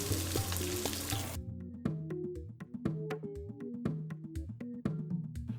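Finely chopped onions, about 200 grams, hit hot oil with cardamom and cinnamon in a cast iron wok over a medium flame. A loud, dense sizzle opens the sound, then settles into a softer, steady fry with a pitched tone and light ticking stirs.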